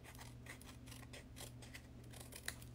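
Scissors snip through cardstock while making a handmade card at a craft table: a quiet, steady run of short crisp cuts, with a slightly sharper snip near the end and no talking.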